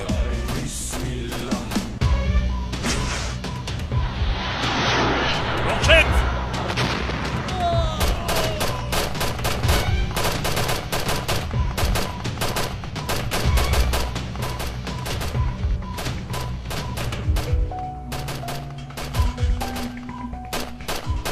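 Battle scene from a Turkish TV series with dense gunfire throughout, including rifle and machine-gun bursts and heavy artillery-like blasts, loud and continuous, with brief shouted voices mixed in.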